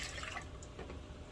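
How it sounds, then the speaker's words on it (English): Milk pouring into a saucepan for homemade yogurt, a steady liquid splash and trickle that stays close and even throughout with no voices. "we're going to add 4 cups of milk or 1 liter of milk to this saucepan"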